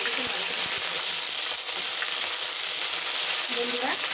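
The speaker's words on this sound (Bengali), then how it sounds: "তেলের মধ্যে এখন মশলাগুলোকে আমি ভালো করে কষিয়ে নেব" Onion, garlic and ginger paste frying in oil in a pan, a loud continuous close sizzle with bursts of spitting and crackling throughout.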